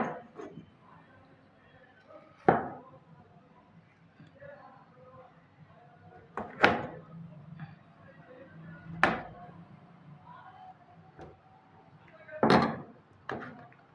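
A kitchen knife cuts food into pieces before it goes into a mixer grinder. A handful of sharp, irregular knocks on a board are spaced a few seconds apart, while a person talks quietly in the background.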